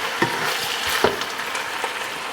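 Burger-style fry-up with black pepper sizzling steadily in a pan, broken by a few sharp scraping stirs, close and continuous with no talking.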